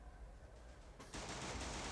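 Gunfire from the Free Fire video game bursts in suddenly partway through, rapid and loud, after a quieter stretch of game ambience.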